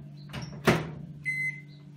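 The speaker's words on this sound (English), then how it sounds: "I'm going to pop this into my microwave to melt." A microwave door clunks shut, then the oven hums and beeps briefly as it starts running to melt coconut oil, fairly close.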